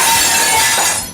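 A glass-shattering sound effect in a comedic animation piece: a single loud, bright crash of breaking glass with a brief ringing tail, heard alone.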